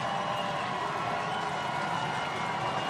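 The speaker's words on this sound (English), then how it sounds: "Big third and 10, crowd making some noise." College football stadium crowd at a Eastern Illinois versus Northern Illinois game, a steady roaring wash of many voices on a big third down, continuous and fairly loud with no distinct individual sounds.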